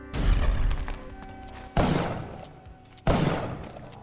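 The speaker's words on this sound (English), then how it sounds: "If I place a bomb right there." Bombs blowing up in the video game Spelunky: three loud, close blasts with sharp onsets and decaying rumbles, the first at the start, then two more spaced over a few seconds, no talking.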